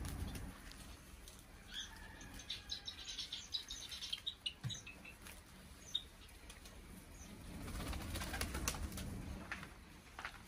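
Pigeons in a breeding cage coo softly and rustle nearby, with faint chirps and small scratchy movements scattered over a low, steady background.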